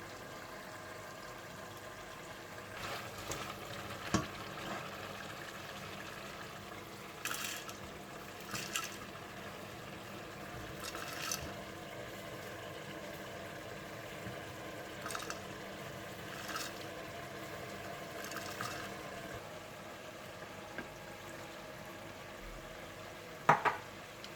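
Mutton sizzles and fries steadily in a pot for korma, a soft continuous crackle with occasional stirring clinks and scrapes.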